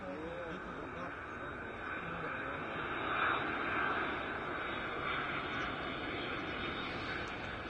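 A Delta Airlines jet airliner at Brussels Airport makes a distant, steady engine roar that swells slightly midway, with people talking over it.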